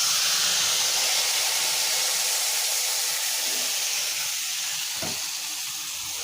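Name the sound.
tamarind sour dish cooking in a pan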